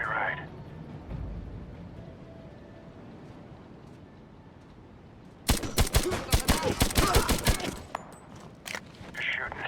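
Gunfire in the video game Medal of Honor 2010, a rapid burst of about a dozen sharp shots lasting over two seconds, loud and close, preceded by low rumbling ambience.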